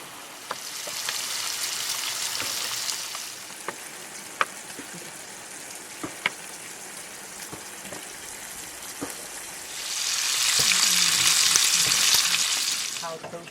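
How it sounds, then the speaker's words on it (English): Bacon with onions and peppers frying in a pan at an Ozarks campsite, a steady close sizzle that swells loudly near the start and again toward the end, with scattered clicks of stirring throughout. "I've got our onions and peppers cooking in there just to kind of get them a little bit tender and soft"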